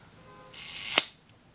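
A vintage Canon IV SB rangefinder shutter fires on the T setting: a faint mechanical whir, then one sharp, close click that decays quickly into quiet.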